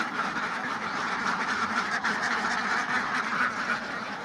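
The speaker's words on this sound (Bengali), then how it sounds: "হাঁস দেখেন বেরোনোর জন্য" A flock of young ducks, one to two months old, quacks constantly in a dense, loud, overlapping chorus close by, with no pause.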